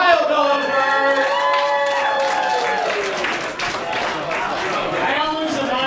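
A comedy roast battle crowd in Denver claps and cheers, with whoops and voices rising over a steady wash of applause and talk throughout.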